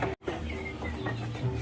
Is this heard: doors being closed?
no